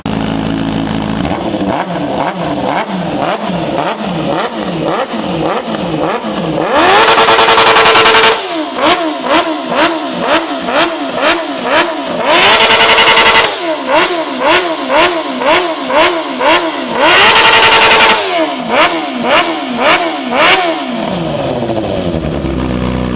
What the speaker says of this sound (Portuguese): Barulhão dos 4 cilindros aí, roncando forte.